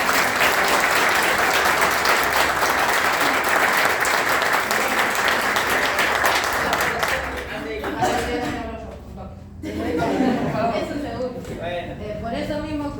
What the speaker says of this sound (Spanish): Así que quiero que lo aplaudamos